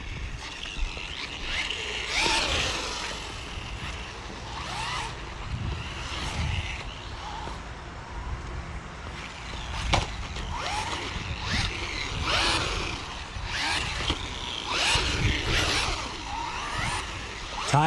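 Large Hosim X07 RC car driving at a skate park on slippery tires, a whining electric motor rising and falling in bursts with rattling and skidding, no talk.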